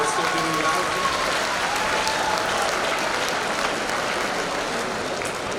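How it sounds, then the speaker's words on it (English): Steady, dense applause from a large audience at a school Founders Day assembly, loud and continuous throughout with no break. "And a round of applause for yourselves"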